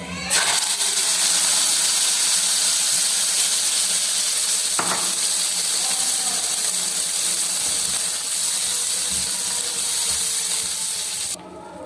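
Boiled moong and masoor lentils hit a hot garlic tempering with a loud, steady sizzling hiss that carries on evenly, close up, before cutting off abruptly.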